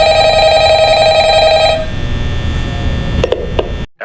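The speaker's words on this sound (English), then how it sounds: "Why am I getting a phone call right now?" A telephone bell rings loudly and steadily for nearly two seconds as an incoming call arrives, then stops, leaving a low background hum and a couple of faint clicks before the sound cuts out.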